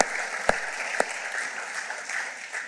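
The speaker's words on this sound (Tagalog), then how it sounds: "Palakpakan muna po natin ng Lord." A church congregation claps together, a steady, dense patter of many hands with a couple of sharper claps standing out near the start, moderately loud throughout.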